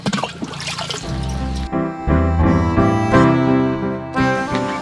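Water pours and splashes briefly, then gives way to steady, tonal music that carries on loudly to the end.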